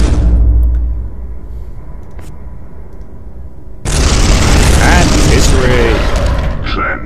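Gunfire from a squad shooting an enemy in the video game Space Hulk: a quieter mechanical stretch, then a loud, dense burst of shots and explosive booms that continues to the end, with game voices mixed in.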